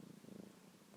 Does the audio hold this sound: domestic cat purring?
yes